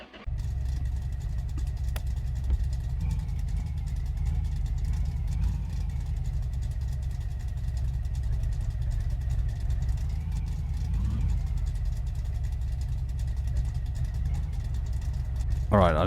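A truck engine in the Car Mechanic Simulator video game idles and rumbles steadily for about sixteen seconds, a low continuous drone with slight swells of revving.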